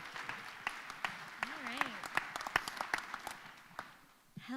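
Audience applause at the Do Good Challenge finals as a presenter comes to the stage, scattered close claps over a room murmur, with voices talking and a brief cheer within it.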